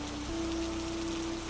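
Steady rain falls on a surface, a continuous even hiss of dense drops with a faint low tone running underneath and no voices.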